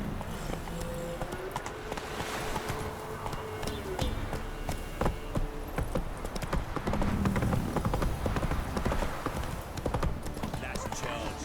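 A horse gallops in The Witcher 3: steady clip-clop hoofbeats run throughout at close range, with voices talking over the rhythm.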